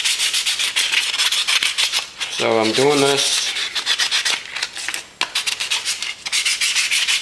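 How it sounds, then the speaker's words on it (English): A Nerf gun being hand-sanded, close and steady, with a continuous rough scratching rub across the whole stretch; someone speaks briefly partway through over the sanding. "I'm sanding it real good and everything."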